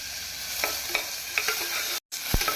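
Ginger garlic paste sautéing with onions in a pan for a minced-meat curry, a steady soft sizzle broken by a few scraping stirs and one short dropout, with no voices.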